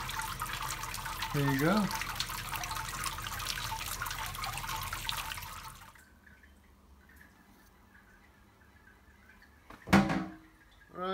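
Water sparging into a BrewTools B80pro all-in-one brewing system while brewing an American stout: a steady, moderately loud wash of running and dripping water for about six seconds, then quieter, with a brief splash near the end and a short spoken remark.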